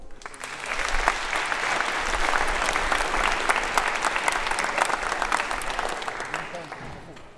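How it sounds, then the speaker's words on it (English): Warm audience applause at a security conference as a speaker takes the stage, a steady wash of many hands clapping for several seconds before tapering off, with voices talking over it. "give him a warm applause"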